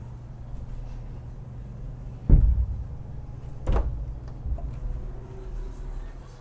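A sliding door on a Dyna 63 flybridge yacht rolls along its track, with two distinct thuds as it moves and shuts, over a low steady hum.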